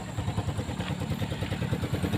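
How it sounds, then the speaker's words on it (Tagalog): A Hero Sky Go 125 motorcycle engine running steadily at idle nearby, with an even, throbbing mid-pitched pulse and faint mechanical clatter, and no talk over it. "Sound check kay Hero S. Hero Sky Go."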